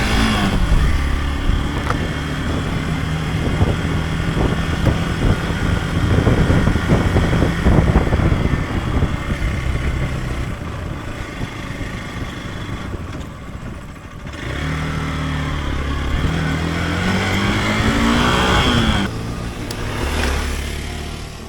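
A motorcycle riding off-road on rough ground, the engine loud and close, revving and easing off repeatedly with a brief dip in the middle and no talk over it.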